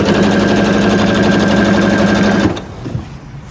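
A sewing machine runs a steady, fast mechanical stitching drone along a seam on a camouflage groundsheet, loud and close, then stops abruptly, leaving faint handling noise.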